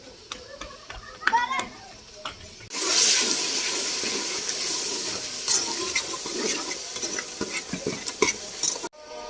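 Loud, steady sizzling of plain potato slices, without salt, chili or gram flour, frying in hot oil starts abruptly after a few seconds of quieter kitchen sounds, with occasional clinks and stirring.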